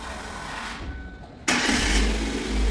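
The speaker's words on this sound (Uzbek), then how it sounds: "Mana mashinamiz ishladi, zavat bo'ldi." A Chevrolet Spark engine cranks and catches, followed by a sudden, steady, loud idle rumble close by with no one talking.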